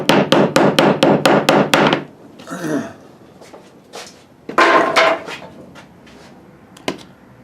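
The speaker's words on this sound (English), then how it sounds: "find a board with a halfway decent straight edge on it, and use that to hammer down your" Lid hammered down with a scrap board, a fast run of about nine sharp loud wooden knocks, then scraping and handling, a second cluster of heavier thuds, and a last single knock.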